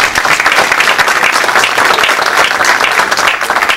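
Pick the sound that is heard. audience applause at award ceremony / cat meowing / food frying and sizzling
audience applause at award ceremony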